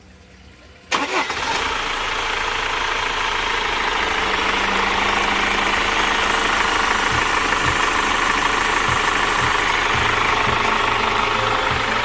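Chevrolet Captiva FL diesel with a failed turbo cranks briefly and catches, then settles into a steady, rough clattering idle with a low knocking rhythm, loud and close, with no talking.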